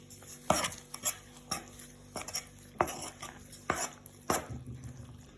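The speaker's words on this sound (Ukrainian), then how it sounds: "цукор, ванільний цукор. і перемішують." A spoon stirs sugar and vanilla sugar into a yeast sponge dough mixture, making rhythmic clinks and scrapes against the bowl, about eight close strokes in quick succession.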